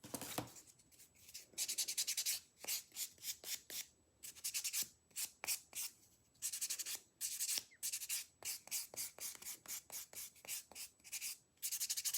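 Quick rhythmic strokes of a nail file and buffer across dip powder nails, close and quiet, in uneven bursts with short pauses between passes.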